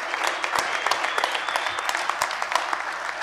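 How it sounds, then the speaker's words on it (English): Scattered audience clapping at a St. Louis soccer celebration honoring a National Soccer Hall of Fame member, a modest round of applause with distinct individual claps throughout. "That's a round of applause in itself."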